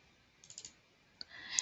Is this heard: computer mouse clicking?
yes